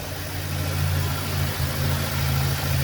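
A car engine idles after a cold first start, giving a steady, close, low rumble that holds even throughout with no voices.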